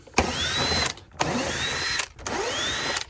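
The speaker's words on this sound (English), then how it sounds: "They're the same T15 screws that we've done already. There's one here, there's one here, and there's one up here. So just take those out." T15 screws come out of a car side mirror housing with a power driver, three whirring bursts of roughly a second each with a rising whine and short gaps between them, near and loud, no talking.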